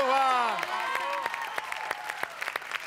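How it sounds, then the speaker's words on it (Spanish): Audience clapping for live musicians at a festive show, the applause building from scattered claps into steady clapping, with a voice and sustained musical tones at the start. "quiero un aplauso grande para los músicos"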